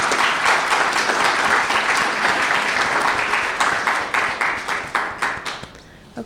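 An audience at an indoor morning information session on myeloma gives a round of applause, dense steady clapping that fills the room and then thins out and fades near the end, with a brief spoken word at the close.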